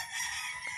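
Chickens and a rooster crowing beside a roadside near a family's house, a faint, distant call heard briefly over quiet outdoor background.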